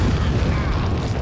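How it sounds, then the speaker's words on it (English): A frag grenade explosion in Resident Evil 4 gives a deep, rumbling boom that fills the whole moment, loud and close. "you just want to drop a frag grenade right down into the group of people here"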